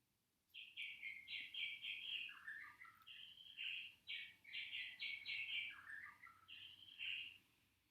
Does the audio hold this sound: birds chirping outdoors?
yes